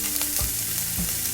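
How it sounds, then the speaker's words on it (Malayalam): Onion, carrot and two green chillies sauté for vegetable fried rice, a short close-up sizzle with a couple of spatula scrapes against the pan. "സവാള, ക്യാരറ്റ്, 2 പച്ചമുളക് എല്ലാം കൂടി ഇട്ട് കൊടുത്തിട്ടുണ്ട്."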